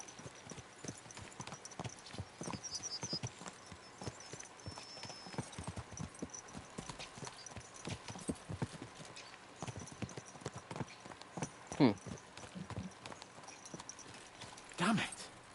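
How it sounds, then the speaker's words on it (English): Horses gallop in the medieval game Kingdom Come: Deliverance II, hooves clip-clopping in a quick steady rhythm at moderate distance, with a couple of louder knocks along the way and soft background ambience. "Let's really spur these horses on, eh?"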